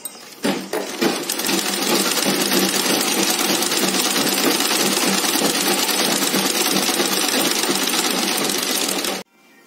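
A sewing machine stitches a three-layer cotton face mask with medical cotton padding, running in a steady, continuous whir close by for about nine seconds after a brief start, then stopping abruptly.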